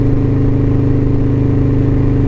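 A motorcycle engine runs right after a wheelie, giving a steady, loud, close drone that holds at an even pitch throughout with no change in speed.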